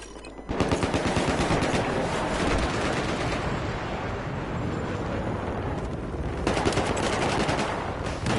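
Rapid automatic gunfire in the video game Battlefield 4 during hardcore multiplayer, dense continuous bursts of shots, loud and close, running almost the full length with a short lull, no speech.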